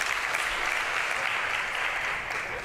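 An awards ceremony audience gives sponsors a round of applause, an even, sustained wash of clapping that stays steady and slightly eases off by the close.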